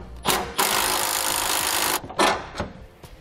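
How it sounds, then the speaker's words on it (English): A wrench works loose 18 mm bolts on a truck frame during a front-mount trailer hitch install, giving a loud rasping ratchet run followed by a few short clicks and knocks, close by. "Now we'll remove these two 18 millimeter bolts."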